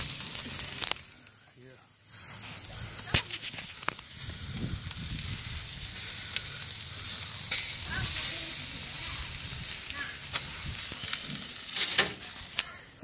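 A burger sizzling on an outdoor grill, a steady close crackling hiss with scattered pops and snaps running throughout, and faint voices in the background.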